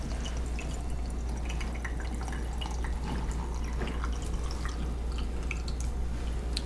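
Tea trickles from a gaiwan through a filter into a glass decanter, a close, continuous stream of fine drips and splashes over a low steady hum, with no speech.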